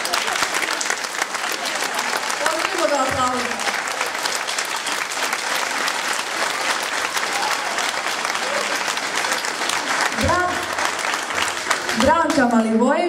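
Sustained loud audience applause after a folk concert, a dense continuous clapping from a large crowd throughout, with someone speaking over it at times.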